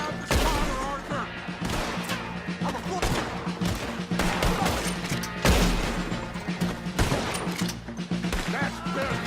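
Battle gunfire in the Red Dead Redemption 2 video game, a dense, loud stream of rifle shots and blasts with shouted voices mixed in throughout.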